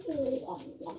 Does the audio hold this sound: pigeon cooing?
yes